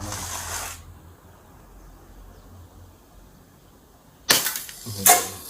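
Shots from a Daisy Red Rider Carbine BB gun: two sharp, loud bursts close by near the end, after a brief noise at the start and a quiet stretch in between.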